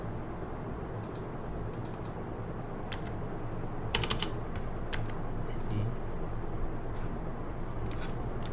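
Soft, steady clicking of a computer keyboard during AutoCAD work, with short bursts of keystrokes and brief pauses, close and quiet, with no talking.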